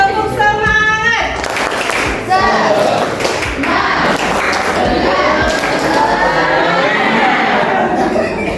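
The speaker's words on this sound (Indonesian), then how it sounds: "Oke, kita tepuk semangat lagi dulu ya." A classroom of high school students at an Islamic boarding school doing a rhythmic spirit clap, sharp clapping and thumps in patterned bursts mixed with voices and cheerful crowd noise, loud and close.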